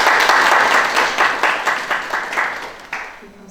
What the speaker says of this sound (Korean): 이제 모두 환영한다는 의미로 박수로 열겠습니다.